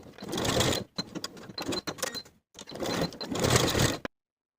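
A sewing machine top stitches the edges of summer dress ties, running in several rapid bursts with short stops between, close and clear.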